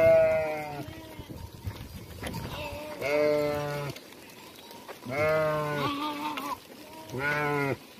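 A flock of grey sheep from a herd of about 1,100 bleats in loud, drawn-out calls, several animals overlapping in bursts with short pauses between, close by outdoors.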